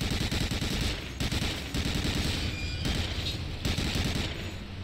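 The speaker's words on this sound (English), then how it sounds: "Ah, everyone's shooting me, I'm gonna die." Sustained enemy gunfire in Medal of Honor Allied Assault, a World War II shooter, with dense machine-gun rattle and overlapping shots roaring loud and unbroken for several seconds, no voices over it.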